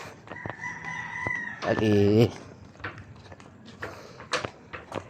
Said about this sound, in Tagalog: Ito po yung mga alaga natin, bibi.